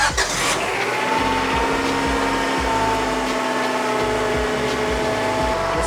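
A car engine cranks and catches, then runs at a steady, loud idle right after a blown coolant hose was repaired.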